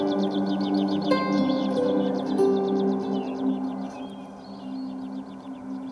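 Forest ambience played through the Hyundai IONIQ 6 cabin sound system: steady layered bird chirps and trills over a low sustained drone, continuous and moderately loud throughout.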